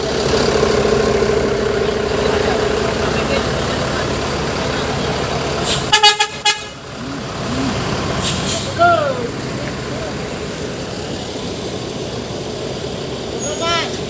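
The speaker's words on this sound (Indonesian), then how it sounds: "Masuk lagi satu unit bus." A Bali Purnayasa tour bus rolls in with its engine idling, letting out sharp air-brake hisses and short horn toots midway, while someone talks over the scene throughout.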